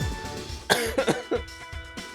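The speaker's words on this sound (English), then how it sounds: "I have to turn the mic off and cough a little bit." A few sharp coughs in quick succession, close and fairly loud, with short pauses between bursts and no talking.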